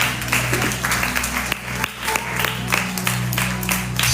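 A church congregation claps, a dense steady roar of many hands with a low hum underneath, and faint voices mix into the crowd noise.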